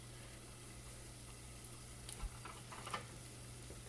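Asafoetida powder dropped into a pan of sizzling Kerala rasam, giving a steady soft frying hiss with a low hum beneath and a couple of small bubbling pops near the end.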